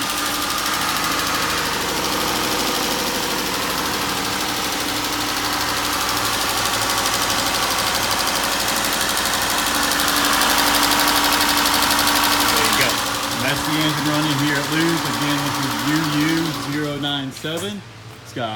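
A Chrysler 300C engine, with no crank pulley or harmonic balancer and a busted oil pan, runs on a test stand, giving a loud, steady drone that shifts in pitch near the end.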